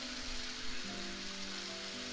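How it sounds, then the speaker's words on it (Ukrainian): Steady sizzling and crackling of mushrooms and onion frying in hot vegetable oil in a pan, continuous and fairly close, with a faint low hum underneath. "На розігріту сковорідку з рослинною олією викладаємо гриби, а також цибулю."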